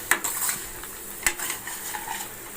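Food frying in a pan of Assamese paneer curry, stirred with a utensil that scrapes and clinks against the metal in a few sharp knocks over a soft continuous sizzle, close and alone without talk.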